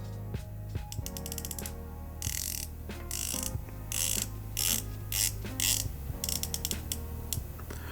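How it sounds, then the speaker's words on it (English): Ratcheting clicks of a 120-click ceramic bezel on a Hemel Stratus HF Series automatic pilot's watch, turned in close, crisp bursts of rapid clicks with brief pauses between turns, no talking. "Let's listen to the bezel."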